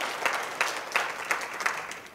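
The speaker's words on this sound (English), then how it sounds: "clap if you're committed." An audience at a talk on small business and personal brand marketing gives about six evenly spaced, rhythmic claps, fairly soft and sharp, with no talking over them.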